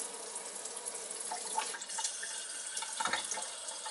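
A kitchen faucet runs with a soft, steady watery hiss, with a few brief louder splashes and drips near the end.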